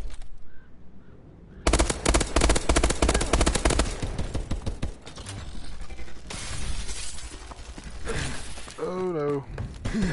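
An automated sentry gun in the Exo Survival game fires a rapid, loud burst of gunfire with sharp metallic cracks, then continued action noise with a voice heard near the end.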